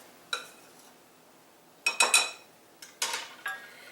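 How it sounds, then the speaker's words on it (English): Pastry blender clinking and scraping in a bowl while cutting fat into flour for a homemade chicken pot pie crust, one sharp tap then clustered bursts of metallic scraping, close and fairly quiet. "I'm just going to take my pastry blender"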